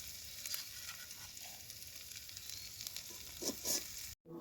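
Hilsa fish fritters fry in hot oil with a steady, close sizzle and crackle throughout, a few brighter pops near the end before it cuts off abruptly.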